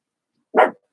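A single short, loud bark from a pet dog indoors, close by and alone, lasting only a fraction of a second.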